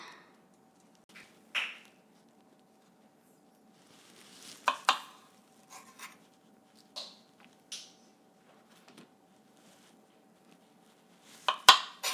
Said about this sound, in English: I'm going to grab my bloody knife and I'm just going to slice them just a little bit.